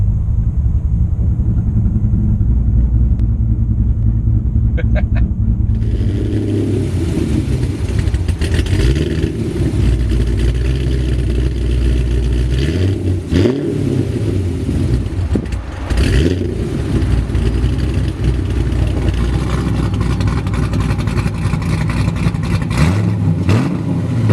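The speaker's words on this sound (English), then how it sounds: "it has some cool little exhaust tricks. It has an exhaust dump on it." Loud, aggressive 2010 Stage II Nickey Camaro engine with a big cam, idling and revving in a car, turning much louder and harsher when the open exhaust dump is switched on, with surging revs and no talk.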